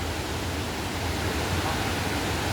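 A waterfall near the Dhutpapeshwar temple in Rajapur, Konkan, roars as a dense, constant wash of rushing water, loud and unbroken throughout.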